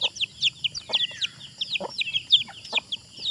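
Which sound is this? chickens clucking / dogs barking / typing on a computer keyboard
chickens clucking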